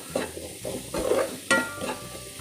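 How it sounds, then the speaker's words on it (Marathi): Small pieces of one large potato are sautéed in a pan for a Konkani-style fresh cashew bhaji, with close stirring scrapes and a light sizzle in an uneven rhythm, no voices. "1 मोठ्या बटाट्याच्या लहान फोडी. हे आपल्याला छान परतून घ्यायचं आहे."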